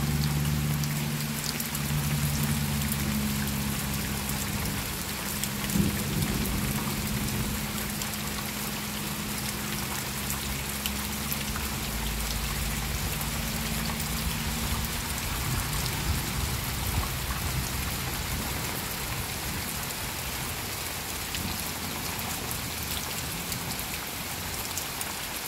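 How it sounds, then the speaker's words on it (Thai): Steady rain falls in an even, continuous hiss of drops on surfaces, fairly soft and unbroken throughout, with a faint low hum underneath in the first half. "ฟังเสียงฝนกันต่อนะจ้า"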